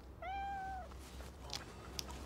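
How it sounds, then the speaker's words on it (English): A cat stuck up a tree in a children's show gives one drawn-out, fairly clear meow, followed by quieter background sounds and faint clicks. "Mrs. Higley-Pigley's cat stuck up this tree."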